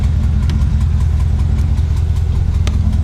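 A GMC Sierra 1500 pickup with a swapped-in 6.2L V8 idles close by, a loud, steady low burble with an even rhythmic pulse and no talking.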